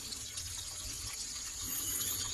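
Cold water flows and gushes steadily at a stream source called a tarog, a continuous soft rushing that stays even throughout with no voices.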